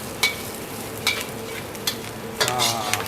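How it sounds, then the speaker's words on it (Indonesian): Fish balls and kailan sauté with garlic in a hot pan, a continuous soft sizzle broken by several sharp scrapes and clacks of a utensil stirring, close up and without talk. "Bakso ikan sama kailannya ya. Kita saute sebentar. Biar dia ke infuse sama bawang putih ya."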